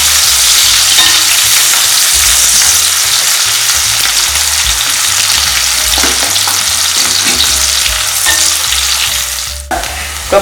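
Onions roasting in hot oil for ghee rice sizzle loudly and continuously up close, with stirring scrapes and a sharp clink of the spoon near the end, no voices.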